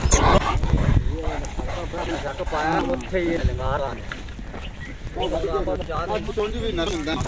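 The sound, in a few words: dogs fighting, barking and whimpering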